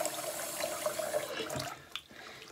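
Hot water runs from a tap into a soapy basin during soap felting, a soft steady splashing that cuts off partway through, followed by a few faint drips and knocks.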